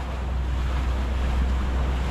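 Strong monsoon wind roars steadily over crashing waves on the Pacific, a constant loud rush of surf and gusts with no voices.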